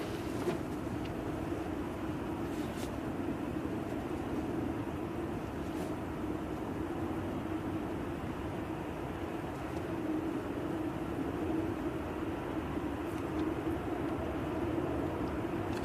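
An ATR turboprop airliner at a gusty Manchester Airport, a steady broadband propeller and engine drone held at even loudness throughout, fairly distant with wind noise and no talk.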